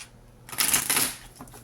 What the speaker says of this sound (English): Shuffle it real nicely.